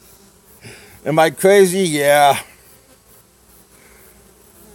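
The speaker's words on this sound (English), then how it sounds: "I got bees everywhere right now." Bees buzzing around a backyard hive setup, a faint steady hum behind a man's loud, close voice that dominates the middle of the short stretch.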